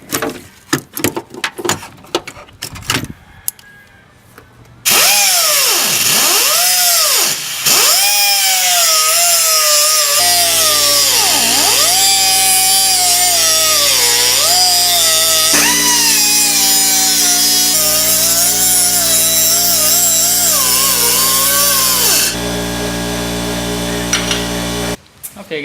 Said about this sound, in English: Now we're just looking for the cutoff wheel.